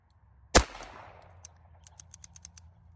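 One loud rifle shot rings out near an AR500 steel teardrop target, followed by a trail of quieter, quick clicks and faint metallic ticks.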